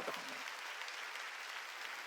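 Church congregation clapping during a Sunday worship service, a brief, faint burst of steady, diffuse applause from a large room, with no talk over it.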